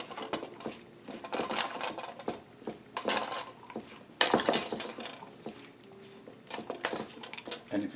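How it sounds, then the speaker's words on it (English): A spoon works through Jamaican curry chicken salad with mayo in a bowl, making irregular bursts of clinking and scraping against the dish, close and fairly loud, with short quiet gaps between strokes. "Now I'm going to stir this together, get everything mixed in"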